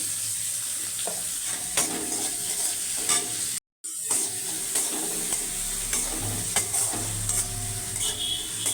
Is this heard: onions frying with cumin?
yes